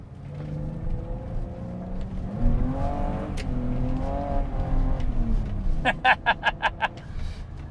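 A BMW 325i E30 accelerates from inside the cabin, its engine tone climbing through the gears with rising harmonics, then a rapid series of sharp pulsing bursts near the end; a voice is faintly present.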